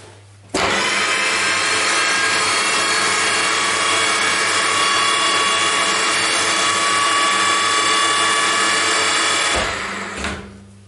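An Intos FNGJ20 tool room mill runs at 400 RPM in its normal gear setup, giving a loud, steady mechanical whir with gear whine that starts abruptly, holds evenly for about ten seconds, then winds down.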